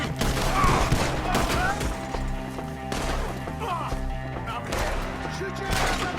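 Gunfire in a Red Dead Redemption 2 shootout in the woods, with shots and impacts running steadily through a dense, busy game mix, and voices talking and shouting over it.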